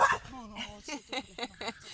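A dog gives a series of short barks and yips, four or five quick bursts close by, mixed with people talking outdoors.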